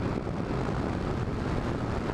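A Yamaha GTS 1000 motorcycle engine drones steadily while riding at around 3,000 RPM, loud, dense and continuous with rushing wind noise and no speech.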